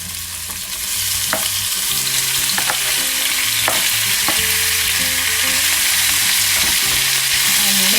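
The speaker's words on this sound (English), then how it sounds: "The heat high to sear the beef." Beef searing over high heat in a hot pan makes a loud, continuous sizzle that swells after the meat goes in, with faint background music underneath and no talking.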